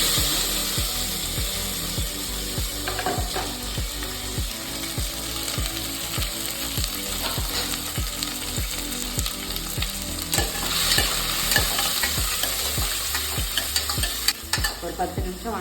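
Sliced onions fry in hot oil with whole spices such as cloves, star anise and bay leaf for a spicy Erode-style mushroom biryani, a steady sizzle broken by regular scraping strokes of a stirring spoon throughout, close and alone.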